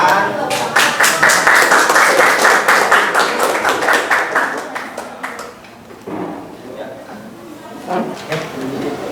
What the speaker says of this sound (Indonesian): Terima kasih yang beri tepuk tangan.